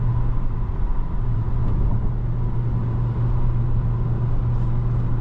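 Steady, loud engine drone and road rumble heard from inside a 2023 Dodge Charger R/T Scat Pack Swinger Edition sedan cruising, with a constant low hum and no speech.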